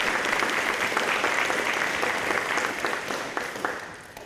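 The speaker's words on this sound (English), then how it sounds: "it's okay to applaud, thank you." A high school ceremony audience claps steadily, a dense, moderately distant wash of applause that gradually thins and fades toward the end.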